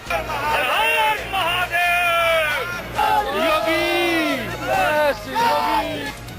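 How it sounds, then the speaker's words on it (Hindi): A crowd of supporters at a Yogi Adityanath political rally chants rhythmic slogans in loud, repeated call-and-response bursts over a constant background din. "जब योगी का कारवां गुजरता तो समर्थकों की भीड़ से यही आवाज आती थी"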